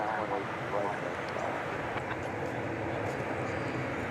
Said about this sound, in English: That's flight 2919 coming in from Austin, Texas, a 737-800.